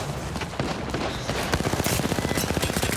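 Rapid automatic gunfire in Apex Legends rattles in a steady, fast rhythm, growing louder and more regular in the second half after a muddier stretch of mixed shooting.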